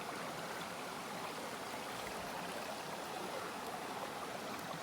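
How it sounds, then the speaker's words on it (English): Water flows steadily through a small dammed stream beside a cob house, a constant close rushing and trickling wash with no pauses and no voices. "That's water coming in from underneath."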